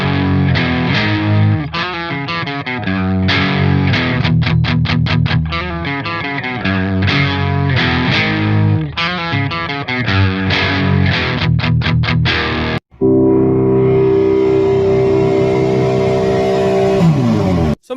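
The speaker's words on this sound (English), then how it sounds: "a review and demo of the Soldano SLO Plus Overdrive pedal" Electric guitar played through a Soldano SLO Plus overdrive pedal, loud and saturated, with chugging riffs and rhythmic stabs, a brief cut near the end before a sustained ringing chord.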